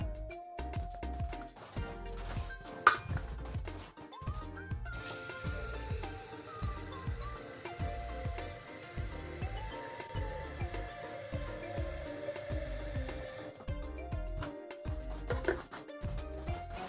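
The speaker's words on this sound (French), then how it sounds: "On va venir faire chauffer l'eau." Water heating for V60 pour-over coffee gives a close, steady hiss and low rumble that swells through the middle and then eases back, with no talking.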